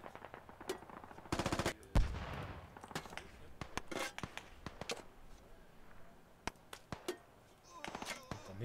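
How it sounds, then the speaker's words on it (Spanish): Bursts of automatic gunfire and single shots crackle through a shooter video game match, with rapid rattling volleys and scattered sharp cracks at varying distances, some muffled, amid faint background movement. "Están disparando mientras."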